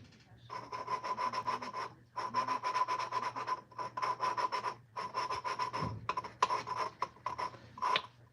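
New valves being lapped by hand in a Plymouth engine's cylinder head during a valve job, a gritty rhythmic back-and-forth rubbing in several sustained bursts separated by short pauses, close and steady.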